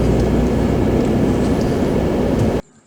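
Steady, loud rumble of a passenger train in motion, heard from on board, running unbroken for a few seconds and then cutting off abruptly into near silence.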